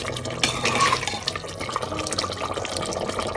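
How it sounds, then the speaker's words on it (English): Leftover water from boiled mutton bubbles and sizzles in an open pressure cooker on a high flame, a steady close watery hiss with a louder burst early on and no talk. "Now I'll be drying up the water, the left out water from the mutton"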